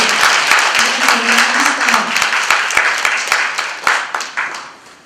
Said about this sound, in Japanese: ローリーさんにもう一度拍手をお願いいたします